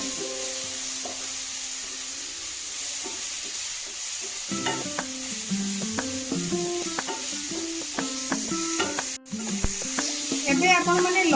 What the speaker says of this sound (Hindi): तापरे आमे एथिरे हळदी गुंड दबा। एबे आमे एकु टिके भलो भाबरे कषि नबा।